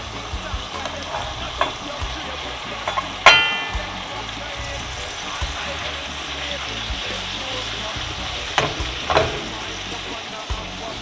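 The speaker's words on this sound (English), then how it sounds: "I'm going to go in with my salt mackerel now" Salt mackerel sautés in hot oil in a pan for a Jamaican breakfast, giving a steady close sizzle with a sharp burst as the fish lands and later clinks and stirring scrapes.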